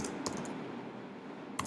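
Faint computer keyboard typing, a few quick clicks near the start and another pair near the end, separated by a quiet pause with low room noise.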